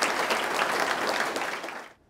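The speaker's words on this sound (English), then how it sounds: "Let's give a round of applause to our administrators, faculty, house parents, staff," Audience applause at a school's state-of-the-school address, a dense, steady wash of many hands clapping heard close, holding evenly before cutting off at the end.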